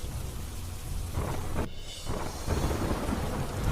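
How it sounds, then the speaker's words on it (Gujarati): Heavy monsoon rain pours down in Lakhani, Banaskantha, a dense close hiss with a rolling rumble of thunder building through the middle and no voices. "બનાસકાંઠાના લાખણીમાં ધોધમાર વરસાદ વરસ્યો."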